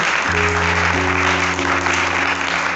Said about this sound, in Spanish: ¿Cuántos le pueden dar un aplauso al Señor, hermano, en esta tarde?